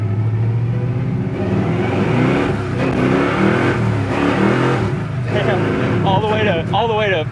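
A 1968 Chevrolet Chevelle Malibu accelerates hard, tires spinning as it burns through the gears to fourth, its engine roaring loud and close and rising in pitch, with people talking over the noise.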